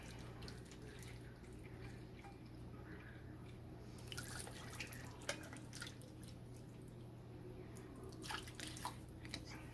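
Boiling water is poured for a poke cake, a faint liquid trickle and dripping with a few soft splashes over a low steady hum.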